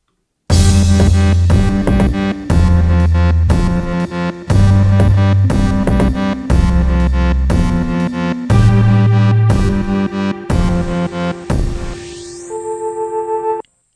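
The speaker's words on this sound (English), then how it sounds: "So if I enable now all the synth layers and play also the drums and the bass," A full electronic track built in Ableton kicks in: layered synths including a Minilogue XD, punchy drums and a bass line pulse in a repeating rhythmic pattern, loud and dense, ending on a sustained synth tone that fades.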